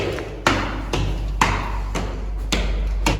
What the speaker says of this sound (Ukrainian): Ж так гупаєш сильно.